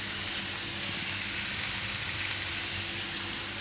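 Turmeric and other spices sizzle in hot oil, a loud, steady, close-up hiss that continues without a break.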